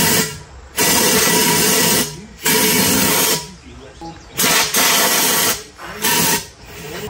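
Compressed air from an air hose blows out the gas cap and gas can of a 1950 Johnson HD 25 outboard motor. The loud, steady hissing blasts come in several separate bursts, each lasting about a second, with brief quiet gaps between them.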